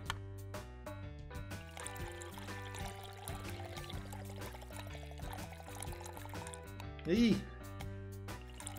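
Water pours into a dish in My Universe Cooking Star Restaurant, an Indian-restaurant cooking game: a short splashing burst near the end, over steady background music while a person talks.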